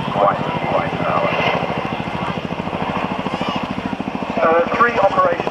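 A military helicopter from an operational squadron beats steadily overhead with a loud, continuous rotor chop, while a commentator talks over the noise.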